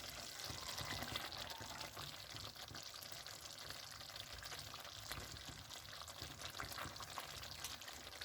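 Fish goes into a simmering fish curry with garlic and onion, a faint, steady bubbling and sizzling hiss with soft splashy texture throughout and no talking.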